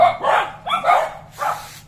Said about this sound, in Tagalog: Nagalit ang mga aso, Barbie.